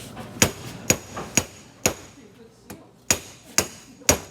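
A hammer beats on a screwdriver during work on a rusty 1959 Ford Galaxie, giving eight sharp, loud metallic strikes in an uneven rhythm, each ringing briefly before the next, with no talk.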